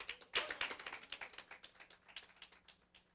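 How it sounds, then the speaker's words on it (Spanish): A church congregation breaks into applause as an offering to the Lord, a burst of many hands clapping that peaks early, then thins into scattered, fading claps at moderate distance. "Dile una ofrenda de palmas al Señor."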